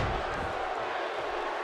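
A wrestling arena crowd in the video game WWE 2K17 roars continuously, a broad, steady wash of cheering with no breaks for its short length.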